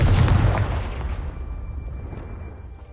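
A Confringo blasting spell from the video game Hogwarts Legacy explodes in a single loud boom that rumbles and fades away over a few seconds.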